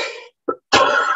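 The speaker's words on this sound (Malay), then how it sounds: "saya batuk-batuk" A man coughs close up, two or three harsh bursts separated by short silences, the last one longer and rasping.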